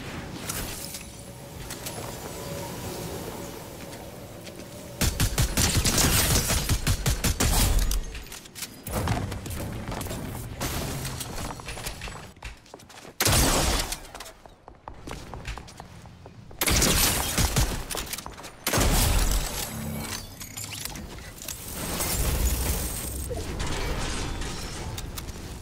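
SMG fire in the video game Fortnite, with long dense bursts of rapid shots that repeat in loud stretches, separated by quieter gaps full of in-game clatter and mechanical noise.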